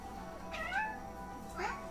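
A cat meows twice, a rising mew around the middle and a shorter one near the end, fairly close but quiet over a faint background hum.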